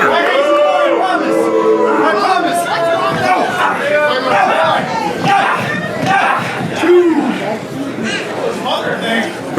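An indie wrestling crowd shouts and pleads in unison, loud overlapping voices rising and falling in a dense chanting roar with scattered individual yells close by.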